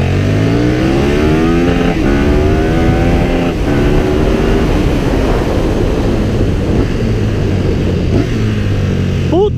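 A KTM Super Duke 1290 motorcycle engine revs loudly and steadily up close, its rising and falling pitch sweeping through the rev range for nearly ten seconds with no talk over it.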